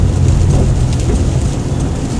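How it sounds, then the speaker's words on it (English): Rain falling steadily all day during a ride along, a dense continuous hiss of rain close by with a low rumbling undertone, no voices. "it's been raining all day"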